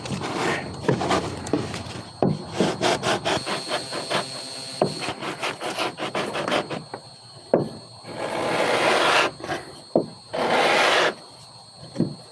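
Wood being sanded by hand with sandpaper, giving repeated rasping strokes, some short and some long and sustained, loud and close with brief pauses between.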